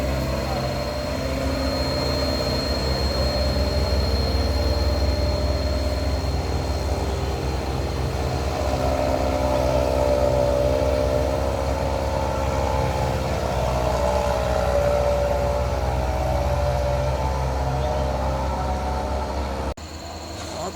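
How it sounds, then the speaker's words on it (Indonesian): An Isuzu truck labours up a steep incline in heavy rain, its engine droning loud and steady at low pitch for the whole stretch, with faint voices under it. "di sana ada truk Isuzu yang sudah tancap gas bosku"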